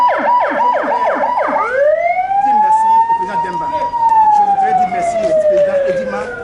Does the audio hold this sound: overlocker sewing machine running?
no